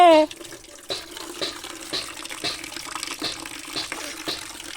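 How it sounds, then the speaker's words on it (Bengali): Water runs from a newly installed tap that is giving dirty water, a steady close splashing stream with rhythmic gushing pulses, after a brief voice at the start. "আমার এ জল তো নোংরা বেরোচ্ছে"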